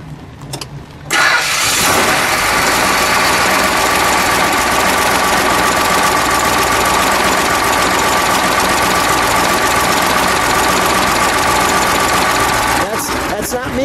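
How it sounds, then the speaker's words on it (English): A 1970 Plymouth Cuda's 426 Hemi V8 cranks and fires, then settles into a loud, steady, rumbling idle up close before quieting at the end. "Let's fire it, shall we? We'll listen to it idle."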